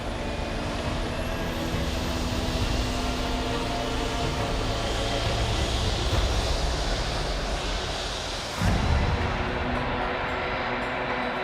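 An Airbus A380-800 long-haul airliner being readied at Munich airport gives off a loud, steady engine roar and whine with a continuous low rumble. A brief hissing break comes near the end before the drone resumes.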